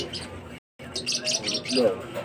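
A pet bird chirps in quick bright bursts close by, with a brief silent gap before a run of twittering calls.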